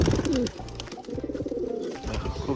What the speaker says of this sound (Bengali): এই দেখো, এই যে দেখো মাদিটা ভালো ওড়া পায়রা হবে।